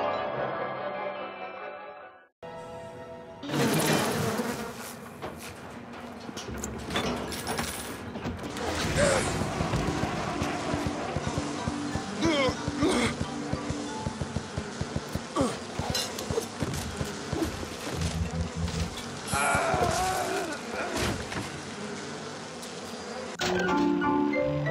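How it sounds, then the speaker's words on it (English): An insect swarm plasmid in BioShock Remastered unleashes a dense, continuous buzzing of insects on groups of enemies. Scattered crashes and impacts of combat run through the buzzing for about twenty seconds after a brief lull near the start. "Unleash insects against groups of enemies."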